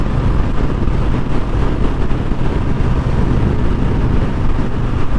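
A 2020 Harley-Davidson Softail Street Bob, still not broken in, pulls in fourth gear at about 3,000 RPM, its engine making a steady low roar under heavy wind rush while riding, loud and continuous throughout.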